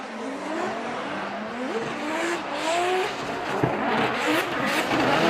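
A BMW E92 drift car at Formula Drift Japan, run by the TMS Racing team, holds a steady high engine drone with rising and falling revs and shifting pitch, plus tire squeal, loud and continuous throughout without commentary over it.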